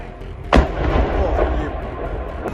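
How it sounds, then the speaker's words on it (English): A drone strike hits a factory with a single sharp, loud blast, followed by a low rumbling roar that carries on under a faint background din. "A second strike lands moments later, intensifying the blaze."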